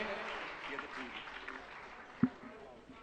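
An audience at a Jain religious discourse gathering applauds to welcome a sponsoring family, a soft steady patter of clapping behind a speaker's voice, with one sharp knock near the end.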